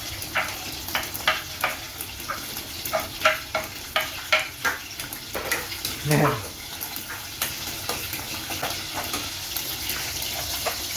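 Ginger frying in a pan for laing, a steady close sizzle broken by frequent scrapes and taps as it is stirred, with a few low voices now and then.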